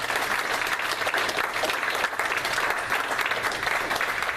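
Steady applause from a church congregation in a Spanish-language service, a continuous wash of clapping at moderate volume with no break.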